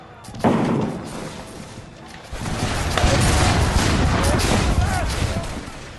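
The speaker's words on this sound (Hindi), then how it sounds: "उन पर गोलीबारी शुरू हो गई।" Battle gunfire crackles as a sound effect: a sharp burst opens, then a dense rumbling barrage of shots and booms swells and continues, with a voice narrating over it.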